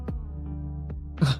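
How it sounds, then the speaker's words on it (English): A brief, soft sneeze from a Sim character named Arthur in The Sims, a short breathy burst at the end after a quiet murmur of game ambience. "Arthur just woke up and sneezed."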